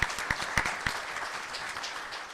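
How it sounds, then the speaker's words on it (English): At a Starship Congress conference, a few distinct claps open into a soft, continuous patter of audience applause for the event's Kickstarter backers, heard from a distance. "I just want to give everyone a round of applause to the Kickstarter supporters."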